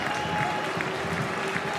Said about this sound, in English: A little round of applause, I think, from the Adelaide faithful for the arrival of Juan Mata